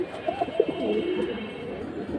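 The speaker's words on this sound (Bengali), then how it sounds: "বসি ঠোঁটের পাখি কবুতর" Pigeons at a pigeon market coo repeatedly, with soft throaty rolling calls close by over a steady background hum and no talking.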